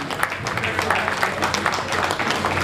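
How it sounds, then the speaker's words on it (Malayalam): Audience clapping at a school alumni reunion, a steady, fairly dense round of applause filling the hall, with voices mixed in underneath. "കൈയടിക്ക് ശക്തി പോരാ, ഓരോ പ്രാവശ്യം പറയണ്ട"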